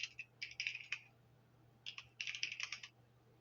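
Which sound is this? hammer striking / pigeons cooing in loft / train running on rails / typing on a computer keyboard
typing on a computer keyboard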